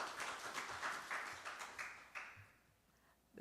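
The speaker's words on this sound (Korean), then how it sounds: "박수로 맞이해 주시기 바랍니다" Audience applause at a Korean industry seminar, welcoming the head of SK Telecom's growth technology institute to the stage; a crowd of hands claps steadily, fairly faint and distant, thinning out and fading toward the end.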